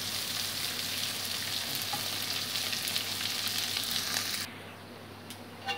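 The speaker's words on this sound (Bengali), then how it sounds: "মুগ ডালটাকে একটু ভালো করে ভেজে নেব।" Mung dal fries in a pan with a dense, even crackling sizzle held close for several seconds, then quieting abruptly to a softer hiss near the end.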